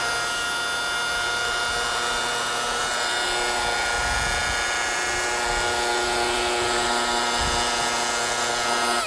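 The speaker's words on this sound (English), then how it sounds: "You start it slow, kind of pick up the product, spread it, and then you start buffing." Rotary buffer polishing ceramic coating into yacht gelcoat, a steady high-pitched machine whine that holds level throughout with a few low thumps underneath.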